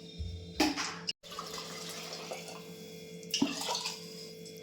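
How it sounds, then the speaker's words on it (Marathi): Water is poured into a cooking pot, heard as a close splashing stream broken by a brief pause, with another short surge near the end. "तर जेवढं लागेल तेवढं पाणी टाकून"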